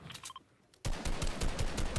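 Gunfire in the Fortnite video game: after a quiet moment, a sudden loud burst of rapid, close shots starts and keeps cracking in a fast, continuous rattle.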